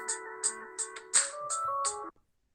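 A phone ringtone plays a short repeating electronic melody of bright tonal notes with sharp chime-like accents, close and clear, then stops abruptly as someone answers.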